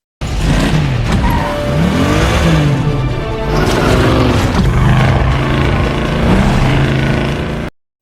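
A stolen car speeds off in pursuit during a movie chase scene: a loud, continuous engine roar that climbs and swells as it accelerates, close and steady for several seconds, with no voices over it.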